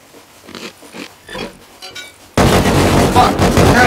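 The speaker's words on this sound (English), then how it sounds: "Shoot another rocket in there, Dan." Rocket launcher firing in a multiplayer video game, a sudden loud blast and sustained roar cutting in after a couple of seconds of quieter game noise and voices.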